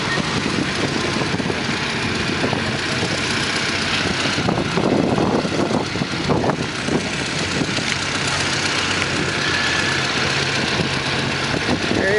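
A 1945 Hobart weld mobile engine idles steadily at a show, a continuous loud, rough mechanical rumble with a faint uneven knock throughout and no talking over it.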